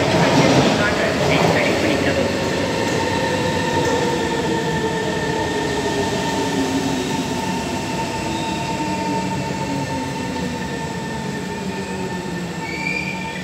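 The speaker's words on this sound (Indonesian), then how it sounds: "Bisa nampak ya kalau MRT yang saya tunggu dari sana." An MRT train arrives at Simei station in Singapore, approaching loudly and steadily with long wheel squeal and rail rumble for the whole stretch, no talk over it.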